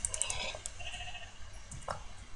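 A pink sheep in Minecraft gives a faint, short bleat among quiet game background sounds.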